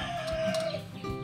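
Chickens and ducks roam a small rural backyard farm, with close, loud clucking and a drawn-out crowing call over a busy farmyard background.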